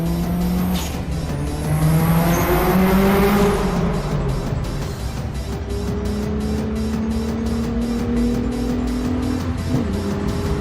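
A modified car driven hard on UK roads, its engine droning and rising through gears with a sharp tyre squeal early on, loud and close, then a steady pulsing drone toward the end.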